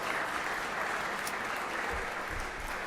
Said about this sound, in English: Let's give them a big round of applause again for being here today and all their hard work.